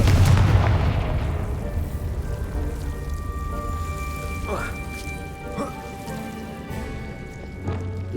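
The Confringo fire spell going off in Hogwarts Legacy: a loud booming blast at the start that fades into a low rumble, with softer crackles and game ambience after it.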